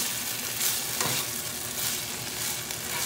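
Spicy sausage frying in a pan makes a continuous close sizzle, broken by occasional stirring scrapes, with no voices heard.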